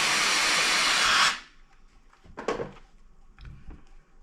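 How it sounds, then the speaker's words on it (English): A steam iron presses fabric for a sewn tablet wristlet, giving one loud, steady hiss of steam for over a second that cuts off sharply, followed by a few quieter bumps and handling noises. "Steam it real good."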